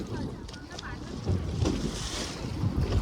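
A boat pulls in at Dwarka amid gusting wind and lapping sea, a brief rushing, blustery wash close to the microphone, with voices speaking over it.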